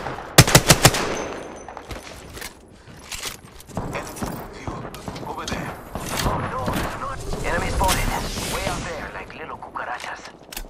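A squad opens fire in Apex Legends: a loud rapid burst of gunshots at the start, then scattered shots and automatic bursts continue amid game noise and footsteps.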